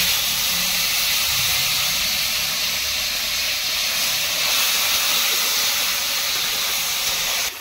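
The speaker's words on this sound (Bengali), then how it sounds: "তো এই তেলে আমি এখন আলুগুলো ভেজে নেব" Potatoes frying in hot oil in a pan in a village kitchen, a loud, steady close-up hiss and sizzle running unbroken throughout before dropping off at the very end.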